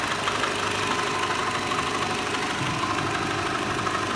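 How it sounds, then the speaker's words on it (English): A twenty-year-old Renault Clio engine idles steadily, giving a smooth, even rumble with a light mechanical tick. It sounds close and constant, with no speech. "But the engine sounds sweet."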